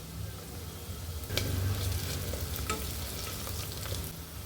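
Ginger garlic paste sizzles and fries with sautéed onions and curry leaves in a pan for a plain salna, a steady close crackling hiss with a brief louder burst as the paste is stirred in.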